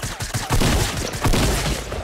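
Shotgun fire in the video game Fortnite: a dense burst of gunfire and booming shots, loud and continuous with no talk over it.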